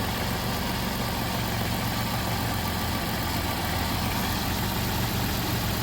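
A car engine idles steadily with its timing belt running, a continuous close, even mechanical drone with low throbbing and no talk over it.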